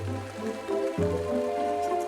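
Heavy rain pours down on a monkey sanctuary, a dense steady patter of drops on surfaces with a low rumbling backdrop and no voices.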